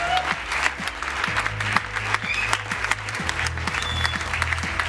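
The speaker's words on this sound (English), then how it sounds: "let's give them a big round of applause" Audience applause for competition winners gathered on stage at a London event, steady clapping throughout with a low rhythmic music beat underneath.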